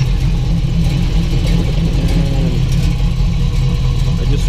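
A 1970 Chevrolet Nova engine runs steadily with its 4-speed transmission just reinstalled, giving a loud, continuous low rumble throughout with a slight rise partway through and no one speaking.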